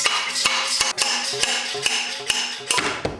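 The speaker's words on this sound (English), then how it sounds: "We got to turn this entire fork into a slide hammer." A motorcycle fork tube on a Honda CRF300L, used as a slide hammer to separate it during a Race Tech Gold Valve and spring kit install, gives repeated sharp metallic knocks at an uneven rhythm, about ten hits, close and clear.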